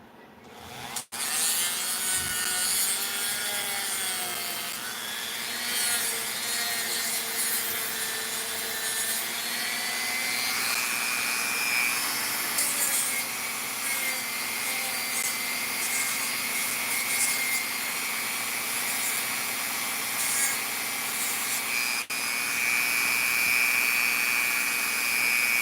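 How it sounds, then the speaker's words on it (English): A rotary grinding tool grinds down part of a diecast model car, a steady high whine with shifting pitch that runs continuously and fairly loud for the whole stretch, with no talking. "I'm just gonna use this to grind this bit down."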